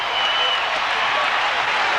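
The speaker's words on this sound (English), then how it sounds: "the crowd stands and gets jubilant" Home crowd roaring and cheering inside an arena during a 1991 Duke versus Arizona college basketball game, a loud continuous wash of voices and some clapping that holds steady the whole time.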